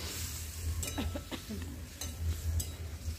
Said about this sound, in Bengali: এবার এর মধ্যে জিরে, ধনে, আদা আর কাঁচা লঙ্কা বাটাটা দিয়ে দেবো, দিয়ে মশলাটা খুব ভালো করে কষিয়ে নেব।